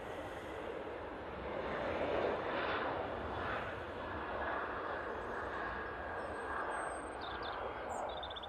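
A TUI Boeing 737-800 takes off from Manchester Airport, heard as a faint, distant jet roar that rises and falls gently across the stretch.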